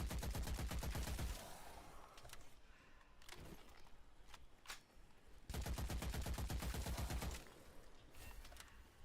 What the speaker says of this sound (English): There's somebody shooting behind me.